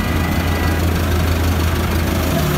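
A tractor engine idles at a tractor market in Lahore, a loud, close, low, steady rumble with a regular throb and no talking.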